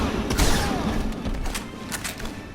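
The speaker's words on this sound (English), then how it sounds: "These use his shotgun, so these would be buffed by the nuclear shells." Lobo's shotgun blasts in Injustice: heavy thumping booms and impacts layered over a busy, loud fight mix.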